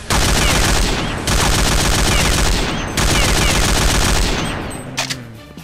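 Automatic gunfire in the shooter game CSPB, three long sustained bursts of rapid shots while spraying horizontally, loud and close, separated by brief breaks and ending with a faint mechanical clatter.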